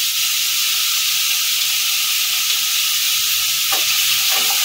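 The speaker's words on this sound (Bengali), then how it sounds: "এখন চিকেনগুলোকে তুলে এর মধ্যে দিয়ে দেব। ছড়িয়ে ছড়িয়ে দেবো, যেহেতু তেলটা একদমই কম।" Chicken pieces frying in a small amount of hot oil, a steady bright sizzle that carries on without a break and stays loud and close, with a couple of faint stirring scrapes near the end.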